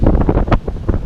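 Wind buffeting a microphone on a summer kayak expedition in Greenland: loud, rough low rumbling gusts that swell and fade over a second, with a voice faintly mixed in.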